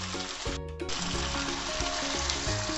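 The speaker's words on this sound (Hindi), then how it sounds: "चिकन फ्राई हो रहा है, बस 1 से 2 मिनट हम इसे और फ्राई करेंगे" Chicken pieces fry in a kadai with a steady, close sizzle that continues through the whole stretch, while soft background music plays underneath.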